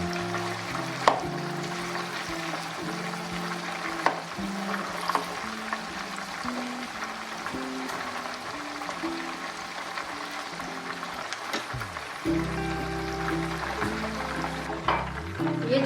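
Chicken frying in a pan for a pulao kabab dish, a continuous close sizzle with a few clinks and shifting tones from the cooking, no voices over it.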